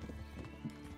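Horse hooves clip-clop in Kingdom Come: Deliverance, a brief quiet patter of steps over a steady game background, with a faint whinny-like tone.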